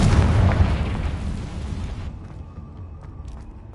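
Confringo fire spell explosion in Hogwarts Legacy on PS5, a loud, deep booming blast that rumbles for about two seconds and then fades into a quieter tail.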